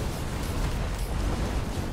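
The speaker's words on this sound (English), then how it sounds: "There are the explosions." Explosions in a video game make a continuous dense rumbling roar of overlapping blasts, loud and sustained throughout with no talk.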